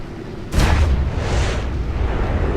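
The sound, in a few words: ship's naval guns firing in the video game War Thunder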